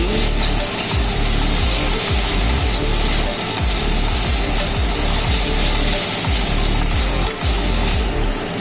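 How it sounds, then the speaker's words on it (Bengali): A spatula scrapes and stirs spice masala with a little salt in a pan while cooking egg kosha, making a steady, close, rough scraping with frequent soft knocks throughout. "মশলার মধ্যে দিয়ে দিচ্ছি অল্প একটু নুন তারপর আবারও নেড়ে চেড়ে নিচ্ছি"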